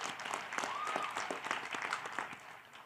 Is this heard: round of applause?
yes